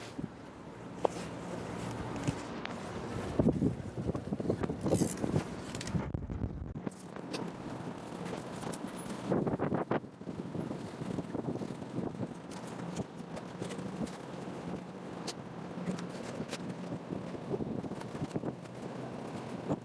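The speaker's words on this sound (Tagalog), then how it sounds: "Lakas ng hangin." Strong wind buffets the microphone in uneven gusts, with rustling and scattered knocks throughout, loud and close.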